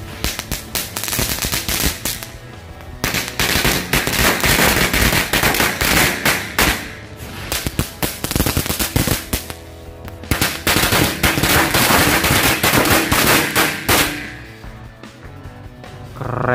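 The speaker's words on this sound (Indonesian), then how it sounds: "Berhasil menyala 4 jenis mercon korek." Rapid strings of firecrackers crackle and pop continuously, loud and dense, with brief lulls before the bursts resume.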